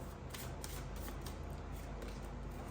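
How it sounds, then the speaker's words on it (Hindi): Tarot cards being shuffled by hand, a steady, close riffling and flicking that runs continuously and quietly with no talk. "So I need one card at one time, so I have to shuffle more."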